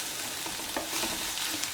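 Dried shrimp sizzles and crackles in hot oil in a pan while being stirred, a steady close frying hiss with small scraping bursts from the stirring, no voices.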